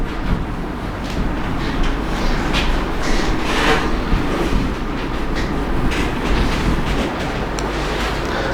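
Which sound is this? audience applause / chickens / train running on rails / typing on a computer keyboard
train running on rails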